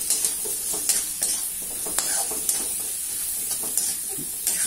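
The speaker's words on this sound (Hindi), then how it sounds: "अभी आलू डाल दिए हैं इसके अंदर" Potatoes sizzle in a catfish-egg masala cooking in a pan, giving a continuous close hiss with sharp stirring clicks every half second or so.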